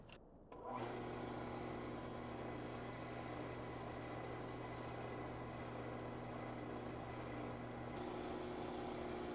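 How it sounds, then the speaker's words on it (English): A power drill boring holes starts after a brief silence, then runs as a steady, close motor whine with a constant pitch for several seconds, with no talking. "Time to drill some holes."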